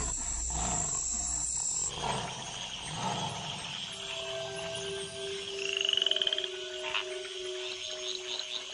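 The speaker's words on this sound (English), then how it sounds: "In the wake of the rains, the tree frogs gather for bouts of communal coupling." Tree frogs call together after the rains in a dense chorus of croaks, trills and whistling tones that overlap and swell, with a brief louder rattling burst midway.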